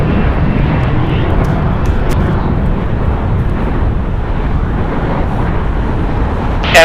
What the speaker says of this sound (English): Last SkyWest, operated by SkyWest Airlines, flight 3405. It's going to Reno. It's an Embraer 175 LR.